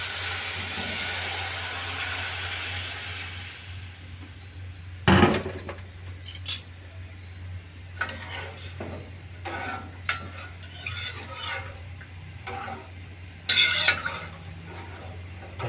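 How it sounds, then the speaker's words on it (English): Coconut milk pours into rice parched in a pot for a Guyanese cook-up, giving a bubbling hiss that fades out. Close scraping stir strokes and sharp clinks of utensil against pot follow at irregular intervals. "now I'm going to be adding the coconut milk into the pot"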